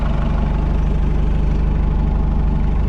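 The engine of an abandoned Hitachi excavator idles steadily with a deep, constant rumble and a faint rhythmic knock, heard close up with no voices.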